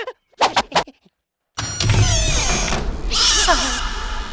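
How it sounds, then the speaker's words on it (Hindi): A few short bursts of sound give way to a long, wavering, eerie cat meow over loud rumbling noise. "ये बिल्ली की आवाज है या किसी चुड़ैल की आवाज है?"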